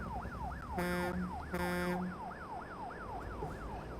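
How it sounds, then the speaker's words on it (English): A wailing police car siren in the truck-driving video game American Truck Simulator, its rising-and-falling sweep cycling steadily and loudly, with two short bursts of a blaring horn tone over a low engine rumble. "there's the police car waiting for us"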